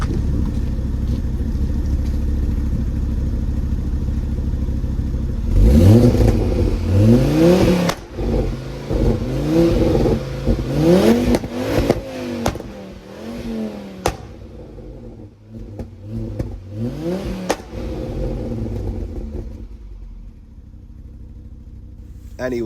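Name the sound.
Ford Focus engine with warped block running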